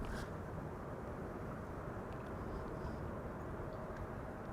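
Boeing 747-8 airliner approaching Amsterdam Schiphol Airport, a steady, broad low engine rumble filling the air without break, heard from a distance outdoors.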